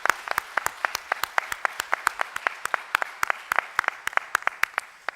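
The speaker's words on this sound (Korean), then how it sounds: "우리가 같이 한번 박수로 장로님 힘내시라고 격려의 박수 한번 하겠습니다" A church congregation at a Sunday morning worship service gives a round of applause as encouragement for an elder. The claps are brisk and scattered, and they keep up at a steady pace for several seconds.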